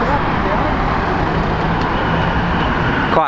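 A Type R car passes at a drive-by car show, its engine and road noise a steady, loud broadband rumble throughout, with voices talking over it.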